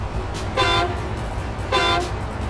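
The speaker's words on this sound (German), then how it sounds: "jetzt hat er gehupt, ohne dass man was gesehen hat" In the SnowRunner video game, a truck horn blares twice in distinct loud blasts, each lasting about a quarter second, with a short gap between them over a low engine rumble.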